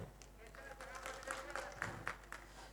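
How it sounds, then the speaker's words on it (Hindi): Poets clapping at a kavi sammelan poetry gathering in Vrindavan, a light patter of applause from a small group, quiet and somewhat distant, with a voice talking over it. "कविगण अपने कविगणों की ताली बजा लिया।"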